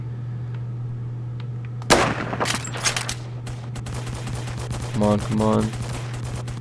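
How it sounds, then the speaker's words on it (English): Several booming pistol shots in a first-person shooter game ring out over a steady background hum, each with a long crackling tail, and someone speaks briefly near the end. "God, this pistol sounds powerful"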